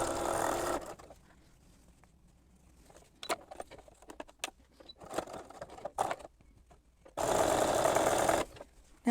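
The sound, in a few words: sewing machine stitching quilt fabric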